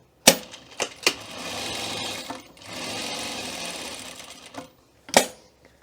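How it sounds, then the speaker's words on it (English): A sewing machine stitching around the edge of a welt pocket at a half-inch seam allowance, running in two steady whirring passes about a second apart, framed by sharp clicks and knocks at the start and end. "we're just gonna sew around the perimeter edge at our 1/2 inch seam allowance"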